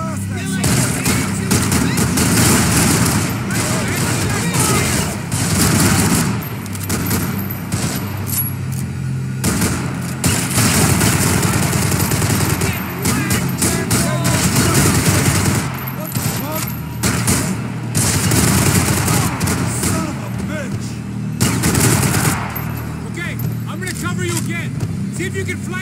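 Heavy gunfire rages through a Max Payne 3 firefight, with dense bursts of automatic fire and booming shots nearly continuous over the whole stretch, while someone shouts urgently over the shooting.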